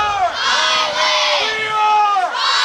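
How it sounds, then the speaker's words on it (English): Football crowd at a high school game between Albert Gallatin Colonials and Highlands Golden Rams, chanting and yelling in loud, rising and falling group shouts of many voices at close range. "I've heard a combination of a Steeler chant and State chant"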